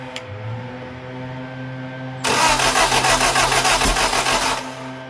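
Lotus Europa engine abruptly revs up under throttle, a loud, steady, rough mid-pitched roar lasting a couple of seconds before dropping back, close to the listener with a faint idle hum before it.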